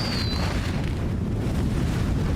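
Fireworks going off inside a Nioh 2 / Wo Long / Trek To Yomi game level, heard as a steady, dense rumbling roar of explosions with no clear separate bangs, loud and continuous throughout.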